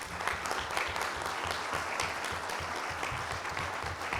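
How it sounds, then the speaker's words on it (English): Steady, dense applause from an audience at a meet-the-candidates event goes on for several seconds at even strength, many hands clapping together in a room. "can we just have a round of applause for all the candidates?"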